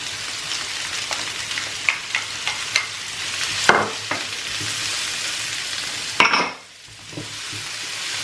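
Curry sauce of garlic, hot pepper, sweet pepper and curry fries in a pan, a steady close sizzle broken by repeated stirring clicks and scrapes, with a louder stir near the end before the hiss briefly drops.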